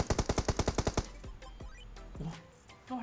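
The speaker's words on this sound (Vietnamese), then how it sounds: "Tiếng súng gần lắm anh em ạ." Close automatic gunfire in the mobile battle-royale game PUBG Mobile, a rapid loud burst of about ten evenly spaced shots over one second, then a few scattered single shots and quieter game ambience.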